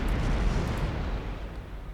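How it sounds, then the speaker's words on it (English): A battleship blows up in Ultimate Admiral Dreadnoughts, a German 1910 naval campaign. A heavy, rumbling blast opens loud and fills the low end, then slowly fades away with no speech. "Just a little explosion though."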